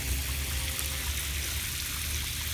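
Water pours steadily into a kiddie pool with a continuous hissing splash, close and fairly loud for the whole stretch, with no talk over it.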